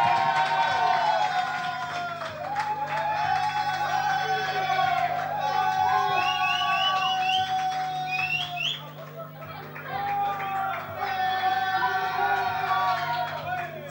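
A slam poetry crowd cheers for the poet, a dense, sustained wash of shouts, whoops and overlapping voices that rises and swells at moderate distance, with scattered individual yells standing out.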